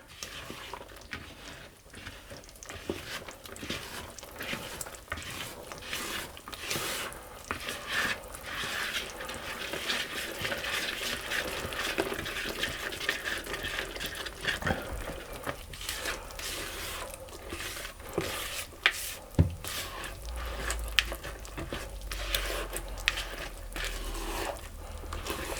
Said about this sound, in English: I'm going to stir that until everything is combined